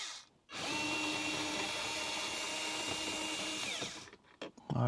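A power drill whirs steadily for about three and a half seconds while unbolting the head unit inside a fifth-generation Toyota RAV4, close and loud, followed by a few small clicks and handling noises.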